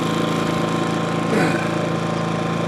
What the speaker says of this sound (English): how well this little generator will run this compressor